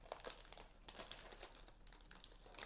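Plastic wrap crinkling on a flower box as it is handled, a soft, close, continuous rustle with irregular crackles and no voices.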